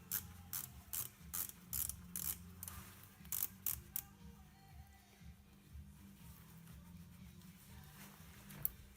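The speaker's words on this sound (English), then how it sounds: "First, loosen the hose clamp for the hose from the EGR valve." Hose clamp on the EGR valve hose of a Mercedes M271 engine being loosened, giving a run of close, sharp ratcheting clicks in quick bursts, then quieter fiddling and faint mechanical noises.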